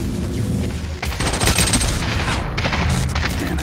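Loud, dense bursts of gunfire from sniping in the Population: One VR shooter, rapid overlapping shots and booms filling the whole stretch, close and continuous with no pauses.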